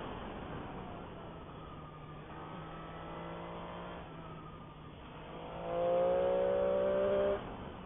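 Triumph motorcycle pulling hard under acceleration, engine note rising and dropping briefly at each quickshifter gear change, a steady buzzing drone that swells louder near the end.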